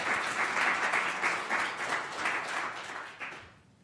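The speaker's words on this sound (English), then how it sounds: "Let's give a round of applause for our sponsors." An audience at a plenary speech event applauds, a dense, steady wash of clapping that holds evenly, then thins and fades out near the end.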